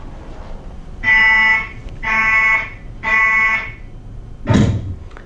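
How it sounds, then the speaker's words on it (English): Three evenly spaced electronic beeps, each lasting about half a second, are followed by a single heavy door slam, all fairly loud over a faint room hum. "So it was basically 3 beep sounds and 1 door slamming in the end."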